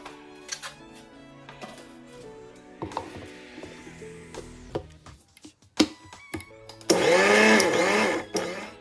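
A kitchen blender grinds dried rose petals into fine powder, a loud continuous whirring burst near the end, preceded by scattered clicks and handling noises.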